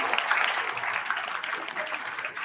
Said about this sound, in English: Round of applause for those who are standing up.